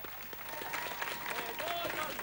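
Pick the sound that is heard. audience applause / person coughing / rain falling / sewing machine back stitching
audience applause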